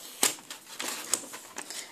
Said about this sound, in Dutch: Even de plakband eraf.